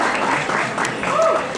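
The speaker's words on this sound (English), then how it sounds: "Please give him an applause" Audience applause for Warren, the drummer, at a live band show in Baltimore: a dense, steady wash of clapping holding through the whole stretch, fairly close and full, with faint voices mixed in.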